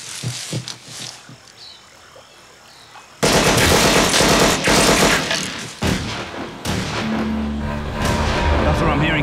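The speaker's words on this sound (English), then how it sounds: "I'm hearing gunfire." Gunfire during a maritime patrol pursuit of an armed subject: a quiet stretch with faint voices, then sudden loud, sustained bursts of rapid shots and blasts that continue to the end.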